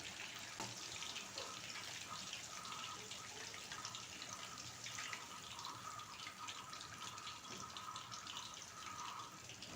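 Ripe plantains, peel still on, fry in hot oil with a steady, soft, even sizzle that runs throughout, with no talking.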